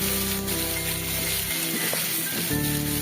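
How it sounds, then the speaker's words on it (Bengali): Spice paste for a rohu fish curry hits hot oil in a pan and fries with a steady, close, broadband sizzle that continues throughout, with a faint tonal hum underneath. "তারপরে যে মশলাটা পেস্ট করেছিলাম ওটা তেলের ওপরে দিয়ে দিলাম"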